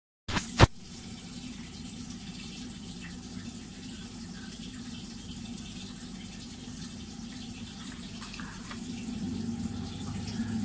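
Hot water runs steadily from a tap while a Vokera Maxim boiler is reset. A sharp click opens it, then a constant, close splashing flow swells slightly toward the end.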